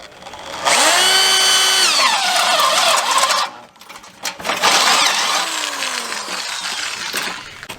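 A power drill bores out spot welds on a car body during a JDM Integra conversion, two loud sustained bursts with whining pitch changes and a short pause between them, close up with no talk.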